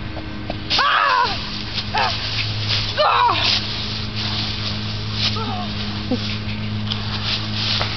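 A dog gives a few short yips and whimpering barks in bursts, fairly close, with people talking around it in between.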